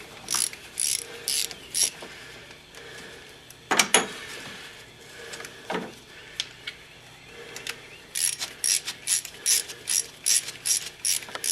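Ratchet wrench loosening a bolt on a Mercedes 300D diesel engine, bursts of rapid close clicking with a pause and a few knocks between them.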